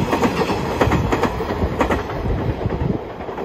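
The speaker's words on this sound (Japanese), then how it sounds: "後ろから普通列車がやってくることになります。" A local passenger train on the JR Inbi Line passes nearby, a steady loud rumble with rhythmic wheel clatter over the rail joints throughout.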